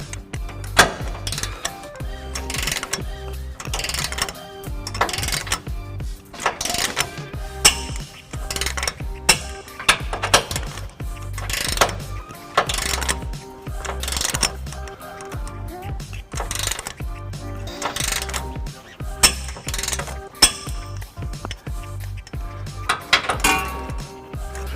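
Trailer hitch bolts being tightened on a 2012 Nissan Titan, a steady run of quick metallic ratchet clicks and clinks in repeated bursts, close and loud, with no voice over them.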